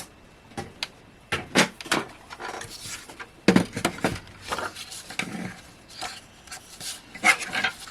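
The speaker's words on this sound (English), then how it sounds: "Let's just grab the guillotine." Card is trimmed on a paper guillotine for cardmaking, with a run of close, dry sliding and rasping strokes and knocks as the blade and card are worked.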